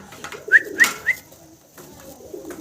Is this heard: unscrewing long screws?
no